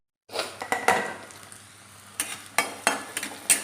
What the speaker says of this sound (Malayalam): ഞാൻ ഒരു അരമുറി തേങ്ങ ഒന്ന് കൊത്തി വെച്ചിട്ടുണ്ട്, അത് ആ എണ്ണയ്ക്കകത്തോട്ടൊന്ന് ഇട്ട് കൊടുക്കുക